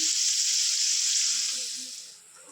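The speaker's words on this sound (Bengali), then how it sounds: "এটা সর্ষের তেল দিয়ে লবণ হলুদ দিয়ে আলুগুলো লাল লাল করে একটু ভেজে নিচ্ছি" Potatoes frying in mustard oil with salt and turmeric, making a loud, close, hissing sizzle that holds steady and then fades toward the end.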